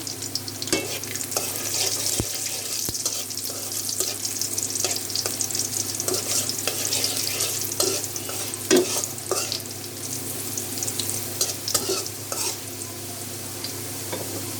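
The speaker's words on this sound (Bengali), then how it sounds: "রসুন দিয়ে বাগার দিয়ে ফেলবো।" Garlic sizzles in hot oil in a pan while being stirred for a dal tempering, a steady close crackle with scraping stir strokes and occasional sharp pops, with no talking.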